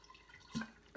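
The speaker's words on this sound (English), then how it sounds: "the water goes through the filter and you get nice clean water" Water drips in a few quiet, close drops from a hand-pump camping water filter producing drinking water, with two distinct plinks within a second against faint background hiss.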